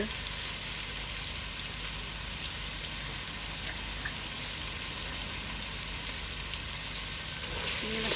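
Shrimp and bottle gourd fry in a pan, giving a constant even sizzle like steady rain with faint scattered pops, close and uniform throughout, no one speaking.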